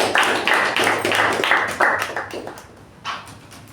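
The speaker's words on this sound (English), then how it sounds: "Round of applause, everyone" A room of Toastmasters meeting attendees gives a round of applause: brisk clapping that gradually thins and fades after a couple of seconds, followed by a short final burst of claps.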